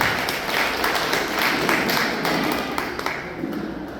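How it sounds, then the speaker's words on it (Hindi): Loud audience applause at a Hanuman Chalisa meeting of a Hindu organisation in Jagdish Nagar, Nagpur, with steady hand clapping and a few sharp taps, fairly close and easing slightly near the end. "एक बार आप सबके लिए मैं जोरदार ताली बजाना चाहूंगा"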